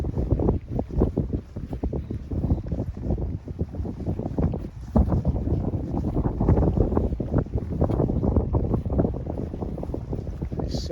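Strong wind on the exposed top of Bar Hill beside old ruins along the John Muir Way in March, buffeting the microphone in loud, continuous gusts with low rumbling bursts.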